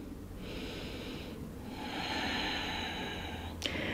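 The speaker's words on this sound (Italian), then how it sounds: "Faccio due respironi profondi." Two slow, deep breaths during a gentle yoga session, each a long audible airy inhale or exhale close to the listener, followed by a short sharp sniff.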